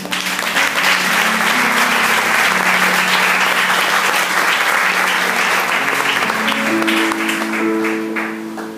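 A church congregation gives loud, sustained applause that fills the room evenly from start to finish, with soft sustained instrumental tones underneath that rise toward the end.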